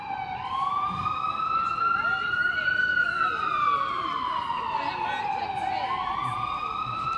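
A wailing ambulance siren sweeps slowly up and down in pitch, loud and steady throughout, with faint traffic noise underneath.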